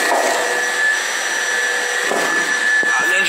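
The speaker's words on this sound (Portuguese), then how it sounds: "No aspirador, ó, o barulho" A vacuum cleaner runs continuously as it pulls electrical wire through conduit, a loud steady whine with a shifting airflow roar and a few faint knocks near the end.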